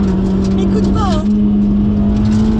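Honda Civic Type R EK9 driving hard through a corner, its engine a loud steady drone heard from inside the car, with a person talking over it.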